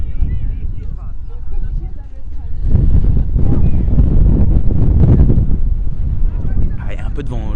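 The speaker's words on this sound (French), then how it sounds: "Il y a un peu de vent aujourd'hui." Strong wind buffets the microphone in a continuous low roar that rises partway through, with people talking over it, at a football match.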